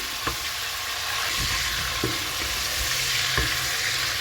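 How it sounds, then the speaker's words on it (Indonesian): Food frying in hot oil in a pan gives a steady, close sizzle with a constant bright hiss, broken by a few soft clicks and knocks from stirring. No one speaks. "Goreng sampai berubah warna kayak gini sebentar aja."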